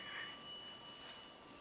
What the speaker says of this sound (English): I like that bell.